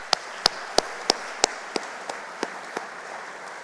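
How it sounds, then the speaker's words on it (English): A handful of scattered, separate claps from an audience welcoming new students at a Madrid welcome event, about nine sharp hand claps spaced evenly and fading in strength toward the end. "let's give you a big round of applause"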